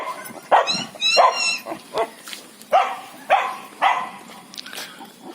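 Several dogs bark and yelp at an animal shelter, repeated loud close barks in an uneven rhythm with some higher yips between them.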